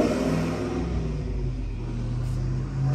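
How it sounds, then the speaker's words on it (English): A Chevrolet Camaro SS engine rumbles and revs with a deep, throaty tone, rising slightly toward the end, heard alone without talk. "My neighbor's Camaro SS."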